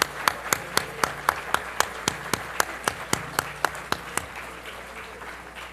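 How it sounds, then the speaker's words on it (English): An audience at a spiritist symposium gives a round of applause, heard as a steady wash of clapping with a sharp, regular clap marking the beat, fading toward the end. "Let's give them one more round of applause."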